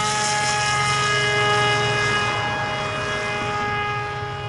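An Element Xe RC airplane flies with its electric motor running at normal cruise, a loud steady propeller whine with sustained tonal harmonics that fades slightly toward the end.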